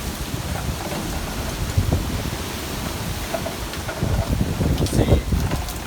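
Hurricane Michael's wind and rain roar steadily as the eyewall moves away, a dense close wash of rain with gusty low rumbles swelling and fading throughout.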